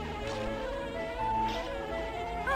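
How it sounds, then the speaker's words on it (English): Bees buzzing in the video game Banjo-Tooie: a steady, close insect drone with wavering pitch that swells and fades, heard alone against faint game music. "Bees."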